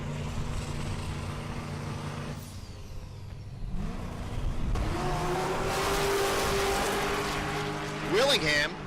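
A long bed S10 and a Camaro launch side by side on a dragstrip, engines droning then surging with rising revs and a sharp high whine near the end, loud and close, under announcer talk.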